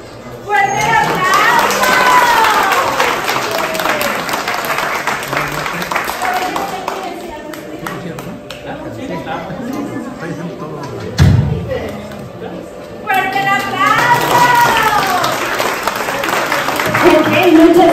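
Bursts of clapping and cheering from a lively crowd at a child's seventh birthday party, fading into mixed voices and a thump midway before the applause picks up again.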